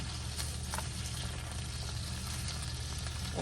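Bacon strips frying in a pan while cooking breakfast give a steady, close sizzle and crackle that runs unbroken throughout, with no one talking.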